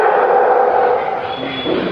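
A dog's yipping bark sounds close and loud over a short stretch, rising above a murmuring indoor background.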